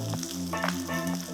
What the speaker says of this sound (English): Fry the slices until beautifully golden brown and crispy.